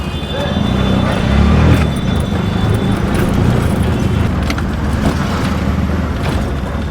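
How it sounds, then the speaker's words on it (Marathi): Shared auto rickshaw riding through traffic in Virar, its engine and road rumble loud and close with rattling mechanical clatter throughout, people talking over the noise. "तर आता आपण रिक्षा पकडली आहे"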